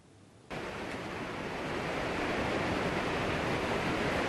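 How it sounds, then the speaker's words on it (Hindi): Surging water of the swollen Madeira River, the Amazon's largest tributary, cuts in as a loud, steady broadband roar that holds constant and slightly builds, with no voices over it. "उफनती मदेरा नदी यह अमेज़न की सबसे बड़ी सहायक नदी है"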